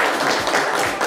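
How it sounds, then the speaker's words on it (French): Audience clapping warmly for a young girl at a live French broadcast event, a steady dense burst of applause that fills the whole moment without pause. "Viens, on peut l'applaudir très fort"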